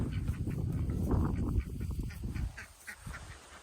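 Several ducks quacking and honking close by, overlapping calls in short bursts that thin out toward the end.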